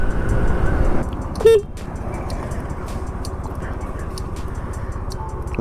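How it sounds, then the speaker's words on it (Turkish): A single short car horn toot sounds near, standing out over a steady ticking, like a turn signal, and low engine noise inside an Uber car in Japan. "Kornaya bastık yanlışlıkla kadın da aynadan bana bakıyor."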